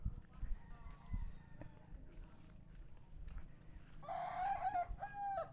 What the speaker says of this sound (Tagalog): Meron din tayong alaga dito mga kabayan na native na manok na dalawa.